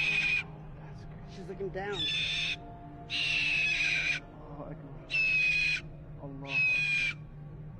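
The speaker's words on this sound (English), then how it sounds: "Look at the screams, the high-pitched screams." A parrot lets out five loud, sustained high-pitched screams at a steady spacing, close by, while someone talks softly between the cries.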